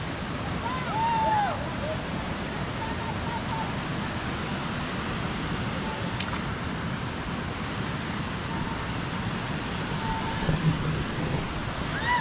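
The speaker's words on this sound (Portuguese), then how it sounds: "Como vocês estão vendo, a cachoeira lá atrás." The Rio Verde cascade waterfall gives a steady, even roar of rushing water, heard from some distance throughout, while a person talks over it.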